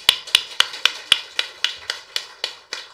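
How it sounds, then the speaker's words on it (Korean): A church congregation claps in unison, with about eleven sharp, evenly spaced hand claps at a brisk steady rhythm that gradually soften, with nothing else under them. "우리 하나님께 영광의 박수 한번 올릴까요?"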